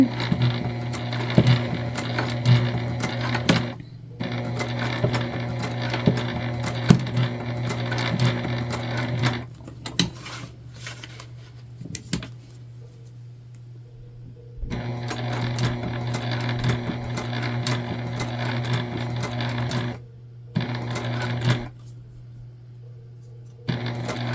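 A sewing machine stitches an Aurora shoulder bag in long steady runs with a strong motor hum. Brief pauses fall between seams, and a longer quiet stretch comes midway before stitching resumes.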